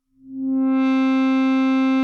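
A budget synthesizer note using an inverted envelope swells in gradually from silence into a loud, sustained, bright buzzing tone, creating a faux delay effect; the note plays alone and holds steady to the end.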